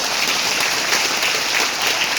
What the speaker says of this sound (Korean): 다시 한 번 박수 한번 드릴까요?